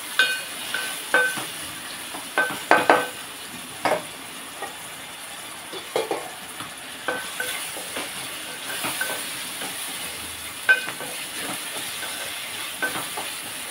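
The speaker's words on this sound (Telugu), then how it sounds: "ఉల్లిపాయ బాగా మగ్గుతుంది కదా" Onions and tomatoes cooking in a pot give off a soft, steady hissing sizzle, broken by scattered clinks and scrapes of a spoon stirring at irregular intervals, with no talk.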